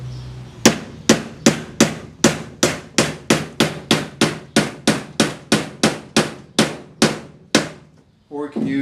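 A hammer drives nails through thin 1/4 inch plywood backing onto a wooden spice rack frame, about twenty sharp, evenly spaced close blows in a quick steady rhythm, each ringing briefly, then a pause and some handling noise.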